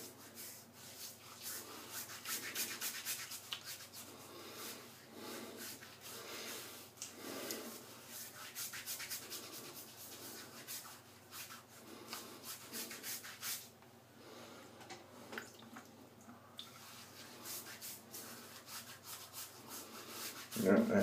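Shaving cream being rubbed onto a head before a head shave with an old-type Gillette razor and an Omega 10066 brush, a faint, steady soft rubbing and lathering that continues for a long stretch with occasional breaths.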